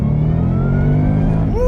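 A 2015-2017 Ford Mustang GT V8 on a dyno with 93-octane fuel holds a loud, rich harmonic engine drone, then its pitch climbs sharply at the end.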